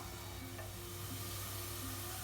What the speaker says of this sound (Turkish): Domatesler birazcık kavrulsun.